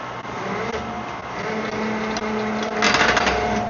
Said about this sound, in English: this runs off the hydraulic system, so I have a hydraulic lever here, and you just start it